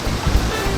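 A waterfall beside a living root bridge in the Khasi Hills, heard as a steady, broad rushing roar of falling water, loud and continuous with no pauses or talk.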